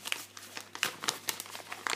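A paper mail envelope containing trading cards is opened, producing close, irregular paper crinkling and rustling with sharp bursts throughout, and no voices.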